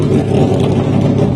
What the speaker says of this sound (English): Tuning engines.